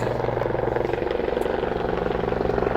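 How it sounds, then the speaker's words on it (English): A police or military helicopter flies overhead in front of the Smithsonian Institution, its rotor chopping out a fast, steady thump under a loud continuous engine roar with no voices. "Golly, noisy helicopter."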